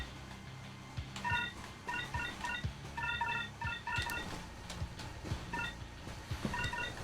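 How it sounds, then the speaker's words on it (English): A mobile phone goes off with repeated short electronic beep patterns in bursts over a busy, rumbling game background, with no one speaking. "my phone's going off"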